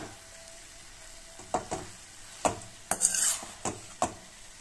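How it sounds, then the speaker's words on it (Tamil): Carrots frying in a pan and turned over repeatedly, a low steady sizzle broken by several distinct scraping strokes of a spatula, heard close with no talking. "இன்னும் ஒரு ரெண்டு நிமிஷம் நல்லா திருப்பி திருப்பி விட்டு வேக விட்டுக்கலாம்"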